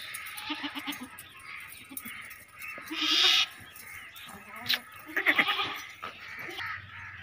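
A Mundri-breed goat bleats a few times over a noisy outdoor background on a goat farm, with a sharper loud bleat partway through.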